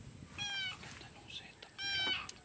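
A cat meows twice at a day-trip campsite in a nature park, each call clear and fairly close with a gap between them, over quiet outdoor ambience.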